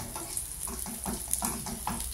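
Cashews and raisins frying together in a pan for moong dal payasam, a soft continuous sizzle with gentle rhythmic stirring scrapes, close and fairly quiet, with no speech.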